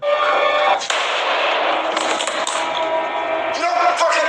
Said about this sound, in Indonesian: membuat dia ditembak oleh Kusik hingga tewas saat itu juga